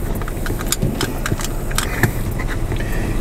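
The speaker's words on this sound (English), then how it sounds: "Car's already started" A car engine idles steadily in a low, continuous rumble, with a few faint clicks and metallic jingles over it and no talk.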